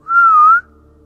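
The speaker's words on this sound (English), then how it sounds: "That was a whistle back." A single clear, rising-and-falling whistle sounds from the woods along the Appalachian Trail, loud and lasting about half a second, followed by quiet.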